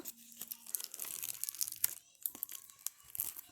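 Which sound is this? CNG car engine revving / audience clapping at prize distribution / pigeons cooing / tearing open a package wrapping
tearing open a package wrapping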